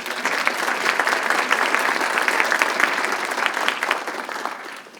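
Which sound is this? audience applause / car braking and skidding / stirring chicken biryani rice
audience applause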